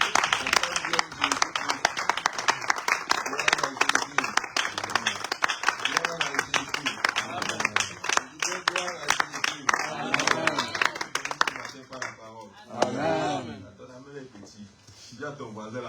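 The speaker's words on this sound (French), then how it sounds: "Tu acclames bien le Seigneur." A church congregation claps and applauds for the Lord in worship, many hands beating in steady, dense rhythm near and loud, with voices talking over it before the clapping thins out and fades.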